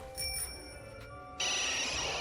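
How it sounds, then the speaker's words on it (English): A bicycle bell chimes from Pokemon Sword's Crown Tundra, bright metallic rings over soft game background music, the ringing growing louder and more insistent toward the end. "I'm ringing my bell."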